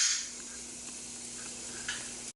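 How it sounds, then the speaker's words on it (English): Vegetables sauté in coconut oil in a pan with sausages, a steady bright sizzle with faint stirring clicks, close and alone, cutting off abruptly. "So I'm gonna go ahead and saute these up, and then I'm gonna go ahead and put my sausages in there"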